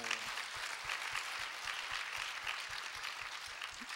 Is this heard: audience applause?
yes